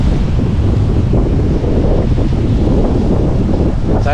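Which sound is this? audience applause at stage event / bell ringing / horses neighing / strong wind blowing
strong wind blowing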